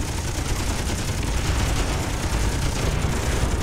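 Dense, continuous gunfire from a space combat video game, Miner Wars 2081, a loud unbroken barrage with heavy low rumble throughout.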